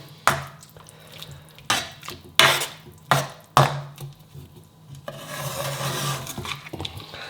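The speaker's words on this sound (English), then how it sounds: "we'll mix that in, and I'll just let that simmer about 10 minutes" A spoon stirs phaal chicken curry with fresh coriander in a pot, giving several distinct scraping knocks at irregular intervals followed by a softer wet swirling with a low background hum.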